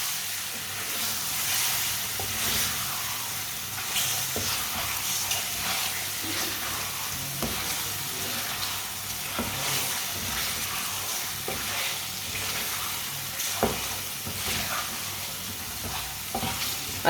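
Boiled eggs are stirred and mixed in a pan over a lowered flame for a winter egg recipe, giving a steady hiss and sizzle with regular soft scraping and tapping strokes. No one speaks.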